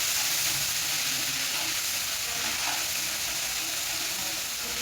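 Masala sizzles and fries steadily in oil over low gas, a continuous close hiss with faint crackles and no break, and no one talking.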